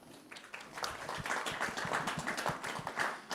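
Audience at a public panel applauding, a moderately distant burst of many hands clapping that builds quickly and keeps going, with no voices over it.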